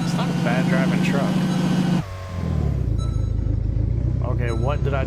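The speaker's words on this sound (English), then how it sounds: "Listen to that rumble, that motor and that thing." Truck engine in a driving video game, a steady low rumble with a brief dip before the motor picks back up and runs on continuously, loud and close.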